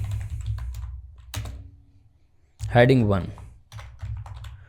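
Computer keyboard typing in bursts of quick close clicks while someone speaks over part of it, with pauses between the runs of keystrokes.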